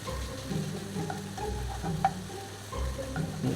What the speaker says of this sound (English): Add the spring onion in and keep stirring.